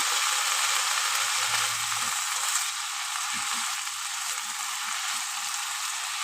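Gourd leaves frying in a pan, giving a dense, continuous hiss of sizzling close by with faint scraping stirs underneath, steady throughout and with no talking.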